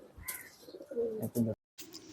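A pair of khaki pigeons coo in a couple of short low bursts close by, with a voice speaking around them and a brief gap of silence near the end.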